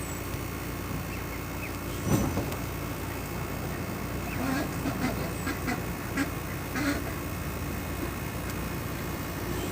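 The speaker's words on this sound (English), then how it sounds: "These are the baby ducks." Baby ducks quack softly in scattered bursts over a steady background hum, with a sharper clatter near the start.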